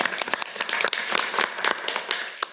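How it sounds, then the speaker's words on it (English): Applause from attendees at a city commission meeting in Santa Ana, a dense scatter of clapping hands filling the room for a little over two seconds at moderate level. "Let's give the winners an applaud"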